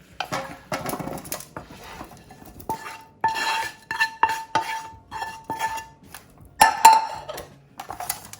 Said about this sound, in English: put the semi-cooked potatoes, just toss it and then move it on the baking tray